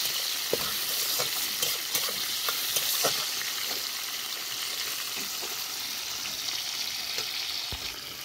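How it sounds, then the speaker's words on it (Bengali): Whole cumin, bay leaves, dried chillies and potatoes fry in hot oil in a pan, a steady dense sizzle throughout with occasional sharp crackles and spatter pops, close and fairly loud with no talking. "ফোড়নটা ভালো করে ভেজে নিয়ে আলু দিয়ে দেবো এর মধ্যে।"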